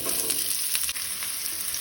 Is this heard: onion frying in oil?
yes